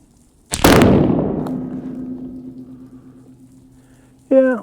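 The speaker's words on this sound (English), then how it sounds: "This will be the last sighting shot." A single sighting shot from a Savage 110 rifle cracks loudly up close and rings out in a long decaying tail, followed by a brief voice at the very end.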